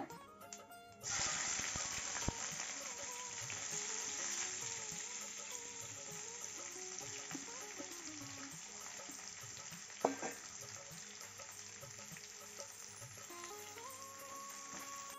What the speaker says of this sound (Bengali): সামান্য জিরা, সাদা জিরা, আর একটু মৌরি দিয়ে এখন উচ্চটা ভেজে নেব।